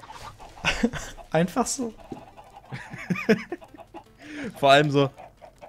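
Chickens clucking in Minecraft, short fowl calls scattered between a man's German speech, with a louder squawking burst near the end.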